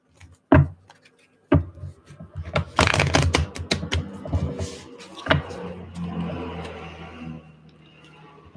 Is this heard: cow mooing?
no